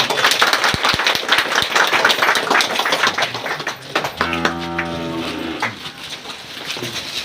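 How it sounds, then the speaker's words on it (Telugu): Applause from a crowd of people at the opening of a cattle shed in Surepalli: a burst of fairly loud clapping, followed by a cow lowing in a few drawn-out moos. "క్లాప్స్ కొట్టండి"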